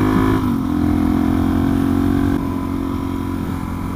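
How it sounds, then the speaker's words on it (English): A supermoto motorcycle engine holds a steady, loud drone as the rider rounds a mini roundabout, its pitch easing slightly partway through and wind noise underneath, with no talk. "The Supermoto way to take a mini roundabout."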